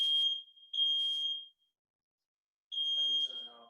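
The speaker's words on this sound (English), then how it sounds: "excuse my alarm" A home smoke alarm chirps in sharp, high, piercing bursts, two close together, then silence, then another as a voice begins speaking underneath.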